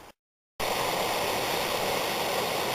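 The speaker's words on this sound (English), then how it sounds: "pretty cool waterfall just coming out of the rock, coming out of the side" Waterfall pouring out of the side of a rock face on a lake canoe trip, a loud steady rushing roar of water close by that starts abruptly after a brief moment of silence and continues unbroken.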